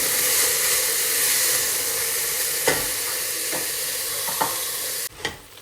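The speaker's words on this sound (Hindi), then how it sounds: "बस इसको फटाफट से लगाएंगे छौंक" Vegetables sizzling as they are tempered in a hot pan for a family soup, a loud steady frying hiss with a few clinks of stirring, the sizzle dropping suddenly near the end.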